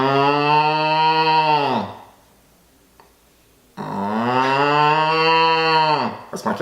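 A woman imitates a cow mooing with her voice, two long, loud, close moos separated by a short pause, each drawn out and falling in pitch at the end.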